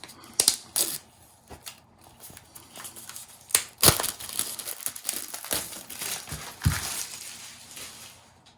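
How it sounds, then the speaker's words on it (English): Apple Pencil 2nd generation box opened by a pull tab: a run of crinkling and tearing of paper packaging, with scattered sharp crackles and a few louder rips, close and fairly quiet, with no voices. "Fairly, again, minimal packaging from Apple. Another pull tab."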